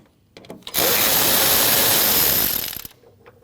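An 8mm fan shroud bolt coming out on a 2012-2021 Nissan NV2500 5.6L V8, a single loud buzzing burst of a ratcheting power tool lasting about two seconds, with a few small clicks before and after.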